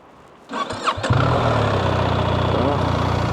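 A BMW R1300GS motorcycle cranks briefly and fires up, then settles into a steady, close idle with a low, even exhaust note.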